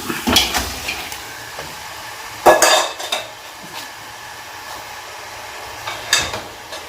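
Beef or mutton liver (kaleji) mixed with bay leaf, green and black cardamom in a metal pot: a few loud clanks and scrapes of a spoon against the pot, separated by quieter stretches with a faint sizzle.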